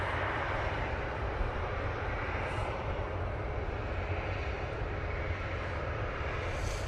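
A KLM Boeing 737-800 departs Manchester Airport for Amsterdam Schiphol with a loud, steady, broadband jet engine roar that holds constant throughout, close and without talk.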